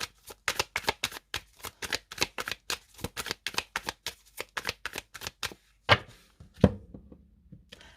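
A deck of tarot cards is cut and handled in a quick run of crisp, close slaps and flutters. A few heavier thumps come at the end, with no talking.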